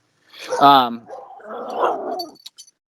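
A puppy gives a short whimpering yelp followed by snuffly, gargling grunts close to the microphone in an indoor room, lasting about two seconds before a few small clicks.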